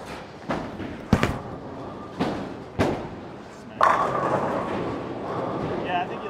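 Bowling ball released onto the lane with a few heavy thuds before rolling and crashing into the pins in a broad loud clatter, a voice talking faintly underneath.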